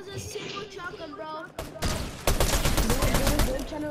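Shotgun blasts in the video game Fortnite, a rapid string of sharp booming shots mixed with other gunfire while players talk over it.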